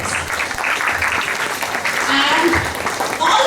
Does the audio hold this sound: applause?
yes